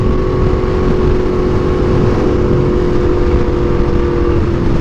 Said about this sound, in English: When you have a really loud exhaust, they sure can.